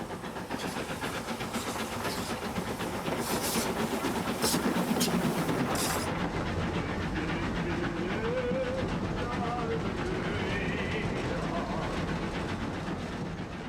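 An O2 class steam locomotive runs on the Isle of Wight, giving a steady, close, loud rolling rumble with hiss throughout and a few faint tonal squeals in the later part.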